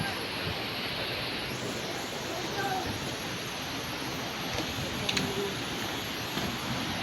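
Seven Falls after rain, a constant broadband rush of falling water, steady and fairly close, with faint voices in the background.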